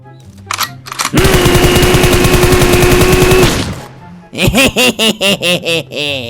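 A sustained, loud burst of automatic gunfire rattles for about two seconds in the mobile video game PUBG Mobile, followed by a player's rhythmic, hearty laughter.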